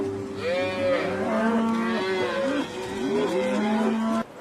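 A cow lowing: a long, loud, close moo with rich harmonics rises and falls, then trails into a second drawn-out call over faint background noise.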